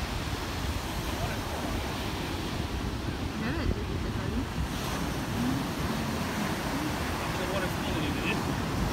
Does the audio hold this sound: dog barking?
no